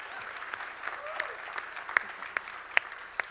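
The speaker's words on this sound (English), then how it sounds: "Can we give a round of applause for the courage?" Scattered applause from a modest audience at a question-and-answer session, with individual claps standing out sharply over a soft steady patter for a few seconds.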